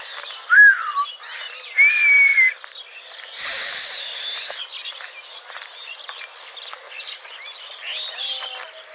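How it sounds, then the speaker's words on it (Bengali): Crows and mynahs calling outdoors at Patenga, Chittagong, with two louder calls early on over steady, busy chirping and chatter from many birds. "কাকগুলো, অনেকগুলো কাক, শালিক পাখি।"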